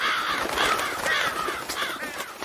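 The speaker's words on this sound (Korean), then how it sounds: "까마귀와 까치들이 은하수로 날아갔습니다." Crows and magpies caw in a steady overlapping chorus, harsh repeated calls close and loud throughout with no speech.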